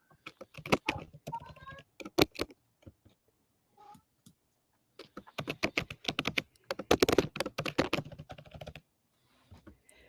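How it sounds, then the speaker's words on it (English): Rapid keyboard typing in uneven bursts, close and fairly loud, with short pauses between runs of keystrokes. "I hear typing."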